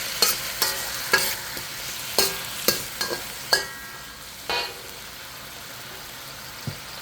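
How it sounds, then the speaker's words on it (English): Baby bok choy stir-fried Cantonese style in a wok with oyster sauce and Shaoxing wine, giving a steady sizzle broken by several sharp scraping clatters of the spatula, with no talking. "Keep on stir frying."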